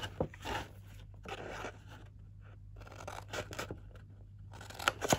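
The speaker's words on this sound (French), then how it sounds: "On va couper là. Juste au premier pli." Scissors cut along the first fold of folded paper, giving a run of close crisp snips and crunchy rasps in uneven bursts with brief quiet gaps between them.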